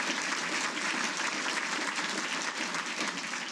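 Dense, sustained applause from a seated audience at a military Hall of Fame ceremony. Even and fairly distant, it continues unbroken with no speech over it.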